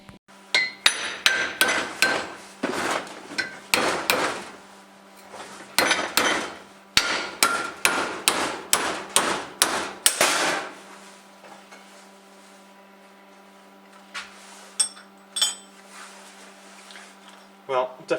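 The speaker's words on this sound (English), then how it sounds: "Let's see what happens if we hit it with a hammer." Repeated sharp hammer blows on a TIG brazed metal joint, about fifteen ringing metallic strikes in quick irregular bursts over ten seconds, then quieter with a few scattered taps against a steady low hum.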